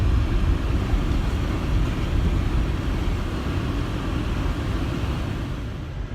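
A car driving home through a blizzard gives a steady, loud low rumble of engine and road noise that continues unbroken from start to finish, with no talking.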